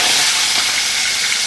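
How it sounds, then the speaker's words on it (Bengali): Chicken rubbed with salt and turmeric shallow-fries in a pan, giving a loud, close, hissing sizzle that holds steady throughout the short stretch. "এখন সেটা হচ্ছে আমি একটু ফ্রাই করে নেব, হালকা ফ্রাই, শ্যালো ফ্রাই করব।"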